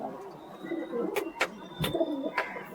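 Pigeons coo softly in a home loft, with several low throaty coos and a few sharp clicks or flaps over a quiet background, close and moderately loud.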